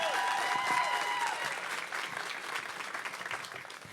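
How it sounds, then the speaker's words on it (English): A crowd applauds steadily, the dense clapping holding at a moderate level before easing slightly. "another rousing applause for one of your key leaders on the campus"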